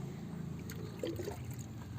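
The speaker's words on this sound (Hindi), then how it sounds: "तो साइड से धीरे धीरे करके डालती हूँ इस तरह से।" Water is poured slowly from the side into a bucket of soil planted with makhana seeds, making a faint, gentle trickle that swells briefly midway over a quiet background.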